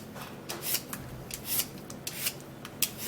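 A cucumber being peeled, skin scraped off in a string of short rasping strokes, close and fairly quiet, with brief pauses between passes.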